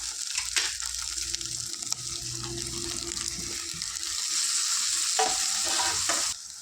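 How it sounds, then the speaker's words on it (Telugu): A pan mixture with about a quarter kilo of tomatoes fries for a tamarind-leaf egg curry until it turns foamy; a continuous close sizzle and hiss comes with scattered stirring knocks and a brief clatter near the end. "ఈ విధంగా ఫ్రై చేసుకోవాలి ఇక ఇలా నురుగలు వచ్చే వరకు ఇలా ఫ్రై చేసుకుంటే"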